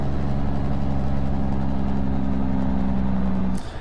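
A truck engine idles in American Truck Simulator with the cab window rolled down: a steady, loud low drone with an even hum that holds for about three and a half seconds before cutting off.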